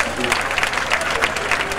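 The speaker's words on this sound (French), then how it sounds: "Applaudissez." Guests at a civil wedding ceremony applaud briefly, a lively scatter of individual claps in a room, with murmured voices mixed underneath.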